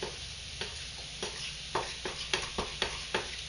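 Shrimp sauteing in a pan for shrimp alfredo, with a soft continuous sizzle punctuated by a steady series of sharp clicks as a utensil stirs and scrapes against the pan.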